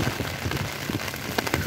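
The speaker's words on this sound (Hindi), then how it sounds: "बहुत तेज़ बारिश हो रहा है" Heavy rain pours steadily in Daejeon, South Korea, with wind blowing, a dense hiss of drops drumming on a surface with no voices, loud and continuous throughout.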